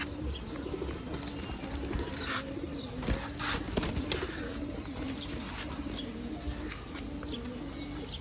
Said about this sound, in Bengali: এই যে দেখেন ভাই একটা কবুতর পুরা সাদা